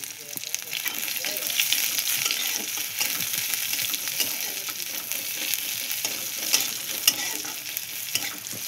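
Onion frying in oil over cumin seeds gives a continuous crackling sizzle, with repeated scraping stirs and small pops coming through at close range.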